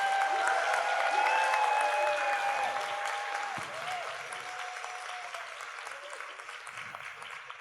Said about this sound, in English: I would like you to give the whole ACB staff a round of applause